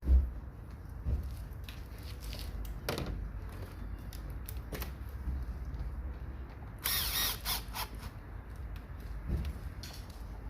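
A bolt being tightened on a Hyundai Sonata or Kia Optima throttle body, with quiet scattered clicks and short ratcheting bursts close by, plus one brighter grinding burst in the middle.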